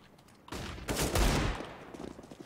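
Desert Eagle pistol fire in Counter-Strike on the Cache map: a quick cluster of sharp shots bursts out in the middle, fairly faint and surrounded by quiet game ambience.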